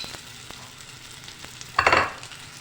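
Mashed potato filling for samosas tipped into a pan of browned, frying onions, a soft sizzle and faint stirring taps before a loud burst of spattering sizzle as the potato lands, then it settles.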